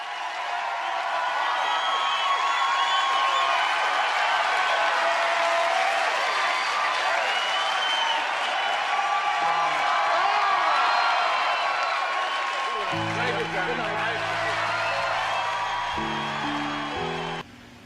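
A television studio audience at a late-night talk show claps and cheers in sustained, dense applause that stays loud throughout, with music entering toward the end.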